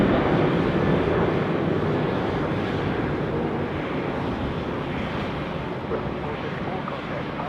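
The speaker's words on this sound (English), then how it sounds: "we've got a Velocity 738 departing of 34 left" A Velocity Boeing 737-800 departing runway 34 left at Sydney Airport, a loud steady jet roar that slowly fades, heard over a voice talking.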